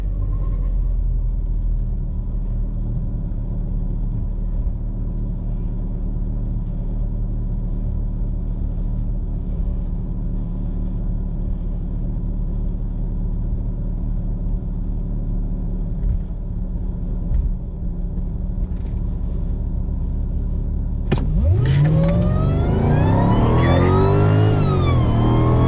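A Mercedes E55 AMG at Orlando Speed World sits in a steady loud rumble, then launches down the drag strip near the end with a rising, wailing engine sweep through the gears.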